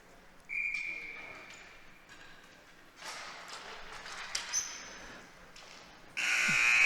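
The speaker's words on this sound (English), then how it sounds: "Buzzer goes." Crowd murmur and scattered ice hockey arena noise, then a loud buzzer ending the first period blares abruptly at the very end.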